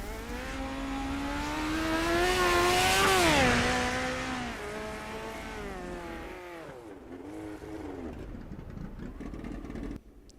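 Dirt track race car engine at a raceway, revving loudly and climbing in pitch as it passes close by, then fading and dropping as it moves away, with other engines droning in the distance.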